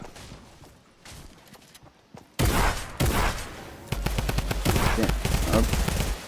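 Rapid bursts of gunfire from a video game duo arena fight, loud and dense in the second half, with a player speaking briefly over the action.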